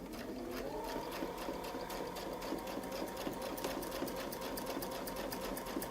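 A sewing machine stitches along a quilting template with a rapid, steady needle rattle, fairly quiet and close, keeping a continuous rhythm throughout without speech.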